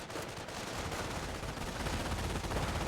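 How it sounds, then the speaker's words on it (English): Sustained MG42 machine-gun fire in the Company of Heroes 1 EF mod battle, a dense continuous rattle of rapid bursts at steady loudness throughout, with no talk over it. "So the MG42 is going to save the day though."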